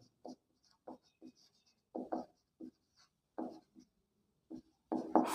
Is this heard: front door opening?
no